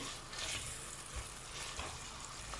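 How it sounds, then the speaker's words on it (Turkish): Chopped vegetables sizzle and hiss in a hot pot while being stirred until they change color, with scraping movements coming in short bursts. "onları da şöyle rengi dönene kadar karıştırıyorum"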